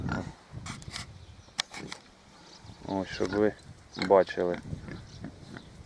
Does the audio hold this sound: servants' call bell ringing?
no